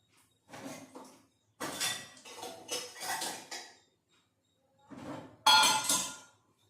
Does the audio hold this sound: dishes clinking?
yes